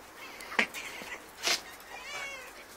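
A cat on a ranch meows twice in short close calls, with a softer, drawn-out mew trailing after, against faint outdoor background noise.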